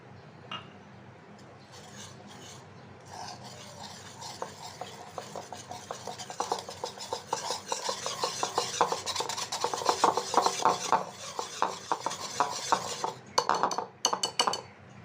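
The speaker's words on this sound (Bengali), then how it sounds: "অল্প অল্প জল দিয়ে ব্যাটারটাকে একটু ঘন করে গুলিয়ে নিচ্ছি" A spoon stirs thick pakora batter of gram flour, spices, salt and baking soda as water is added a little at a time, producing steady close wet scraping and rubbing strokes against the bowl that grow busier and louder, with no talking.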